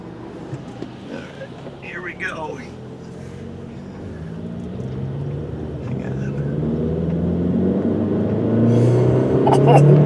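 A Chevrolet Sonic with a 1.4 liter turbo engine accelerating under boost, the engine drone rising steadily in pitch and loudness as it pulls, with someone talking over the start.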